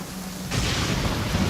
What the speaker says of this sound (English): Don't stay out in the rain for too long.